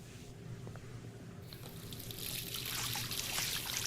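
Water runs from a tap in the video game Life Is Strange, starting as a faint trickle and swelling after a moment into a brighter, louder gush of flowing water, with no voices.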